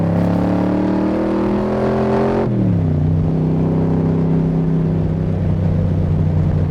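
A Superformance MKIII 1965 Shelby Cobra replica engine roars loudly from inside the car as it accelerates, dropping pitch abruptly at a gear change, then droning steadily with a strong harmonic engine note and no speech.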